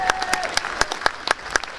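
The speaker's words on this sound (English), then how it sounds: "Give him a big round of applause to Ray." Audience applause at a statue unveiling event in Sheffield, with sharp individual claps standing out over steady clapping from a nearby crowd, mixed with faint voices and a whistle.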